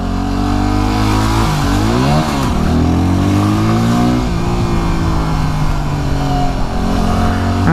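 Motorcycle lane splitting through Los Angeles traffic, its engine loud and close, rising and falling in pitch as the rider revs and squeezes between cars, with steady drone throughout.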